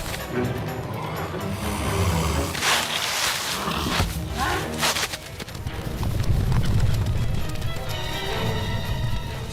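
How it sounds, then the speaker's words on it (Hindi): Buffalo hooves pound loudly in a dense, continuous rumble as the animal charges in a cartoon jungle scene, with roar-like animal cries mixed in. "ये भैंस मेरी तरफ भागी आ रही है।"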